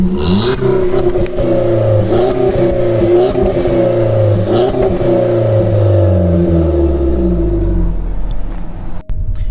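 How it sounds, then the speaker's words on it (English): A Volkswagen Golf Mk6 1.4 TSI with its exhaust back box deleted revs repeatedly with a loud, throaty exhaust, several quick blips rising and falling before settling into a deep idle. "Go on, give it a couple of revs."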